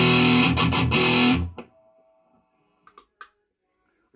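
Electric guitar through an Orange 35RT amp with a distortion pedal and noise gate, a loud, thick distorted chord chopped in a quick rhythm for about a second and a half, then cut to near silence with a few faint clicks.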